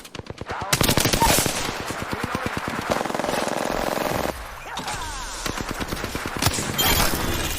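Rapid automatic gunfire from the Apex Legends video game, loud and close, with bursts of rattling shots, a brief lull, then more sustained firing.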